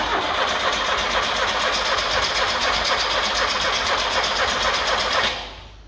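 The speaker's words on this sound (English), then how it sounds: "Oh, the engine is turning over." A small engine cranking steadily as it is turned over in an attempt to start it, loud and close with a fast even chugging rhythm, stopping abruptly near the end without catching.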